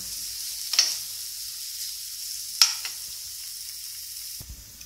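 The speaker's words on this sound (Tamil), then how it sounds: "ஒரு கிளறு கிளறிட்டு இன்னொரு 1 minute விட்டு ஆஃப் பண்ணிடலாம்." Cabbage poriyal with grated coconut stir-fried in a pan, a steady soft sizzle with two sharp scrape clicks of stirring, close and quiet with no talk.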